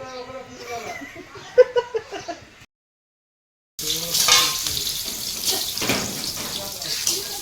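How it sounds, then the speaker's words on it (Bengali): Eggplant fries in hot oil, a dense close sizzle that drops out briefly before returning, with voices talking and some clinking over the frying at the start. "বেগুন ভাজা চলছে"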